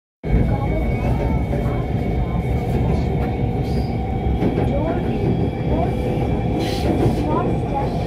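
Train at Sultanpura railway station, Lahore: a loud, continuous low rumble of rolling rail cars that fills the whole stretch, with faint squeals and clatter on top.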